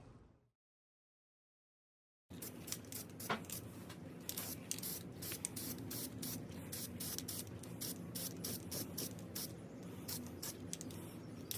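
Aerosol spray paint hisses over antique chest hardware after a brief silence, a run of quick close bursts and sustained hissing passes.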